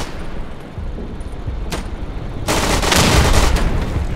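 A grenade explodes in the World War II shooter Day of Infamy: a sharp crack, then a loud, broad blast that rumbles on for over a second amid steady battlefield background noise.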